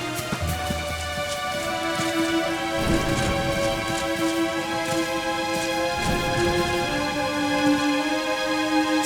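Rain pours steadily in the video game Dragon Quest XI, with a dense patter of drops over a sustained tonal musical backdrop and a few soft low rumbles through the scene.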